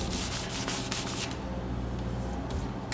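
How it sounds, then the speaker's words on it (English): Light sanding on a wooden guitar neck: steady, close rubbing strokes of abrasive on wood, continuous and even for a few seconds with no talking. "light sanding"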